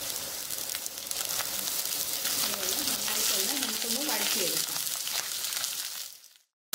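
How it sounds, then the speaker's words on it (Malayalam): Sliced onions fry with lightly browned coconut in a pan while preparing a squid dish, giving a steady, close broadband sizzle throughout, with a faint voice murmuring underneath before it cuts off abruptly near the end. "തേങ്ങയൊന്ന് ചെറുതായിട്ടൊന്ന് ബ്രൗൺ ആയിട്ട് വന്നിട്ടുണ്ട് അതിലോട്ട് നമുക്ക് ഈ എടുത്ത് വെച്ചിരിക്കുന്ന മൂന്ന് സവാള ചേർത്ത് കൊടുക്കാം"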